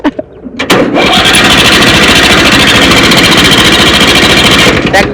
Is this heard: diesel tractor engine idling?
yes